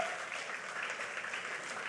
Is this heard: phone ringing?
no